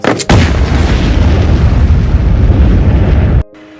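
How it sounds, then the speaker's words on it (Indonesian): A huge, close explosion bursts out with a sharp onset, followed by a sustained deep roar of blast and debris that cuts off abruptly. "terjadi ledakan begitu besar"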